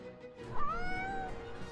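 A cat named Buddy gives a single drawn-out meow close by, rising and then gliding down over a low steady background hum.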